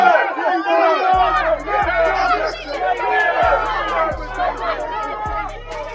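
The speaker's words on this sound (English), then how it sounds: "he was greeted by the last thing any politician wants: boos, anger, and a crowd that had clearly turned against him" An angry crowd outside Parliament in London jeers and shouts at Keir Starmer, dense overlapping voices and cries filling the air continuously, with repeated low thumps beneath the loud hubbub.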